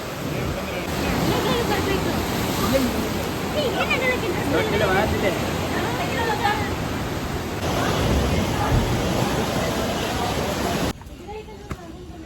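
Steady rushing water fills the whole stretch, a broad noisy wash like a stream or waterfall nearby in Bali, with a voice talking over it before it drops away near the end.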